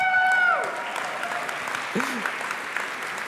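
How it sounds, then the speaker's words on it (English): Demo day audience applauding in a large hall, a dense wash of clapping that is loudest at the start and then settles into a steady, slightly fading patter, with a voice and a short tonal sweep briefly heard over it. "You guys really love to clap."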